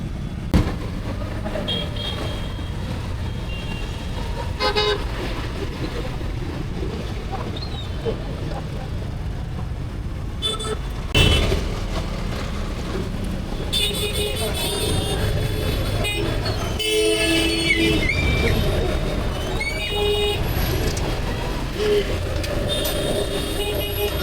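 Road traffic jam with car and vehicle horns tooting repeatedly over a continuous rumble of engines, several horn blasts overlapping and clustered toward the middle and later part.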